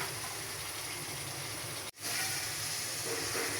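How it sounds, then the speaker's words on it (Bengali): Long beans (borboti) frying in a pan, a steady loud sizzling hiss that cuts out for a moment, then resumes just as strongly. "বরবটিটা দিয়ে আমি আর দুই মিনিট ভেজে নেব"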